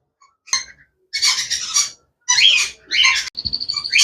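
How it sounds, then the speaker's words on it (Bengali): A conure parrot gives several loud, harsh squawks at close range in short bursts separated by brief pauses, ending in a rapid chattering run of calls. "ভিওয়ার্স এখানে দেখেন এক পিস কনুর পাখি নিয়ে আসছি"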